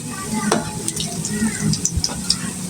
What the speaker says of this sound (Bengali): এই যে এখানে পেঁয়াজগুলো ভেজে নিচ্ছি